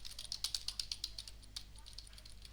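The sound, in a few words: computer keyboard typing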